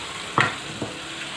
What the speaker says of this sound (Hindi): प्याज और अदरक लहसुन के पेस्ट के साथ हम थोड़ी देर फ्राई करेंगे।